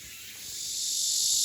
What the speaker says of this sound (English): Just checking the decibels of a cicada. It goes 81. Pretty loud.